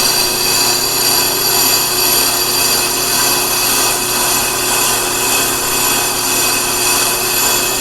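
A brake lathe takes a fast skim cut across the rusty magnet surface of an electric brake drum, giving a steady, loud, unbroken metallic whirring grind that holds level throughout.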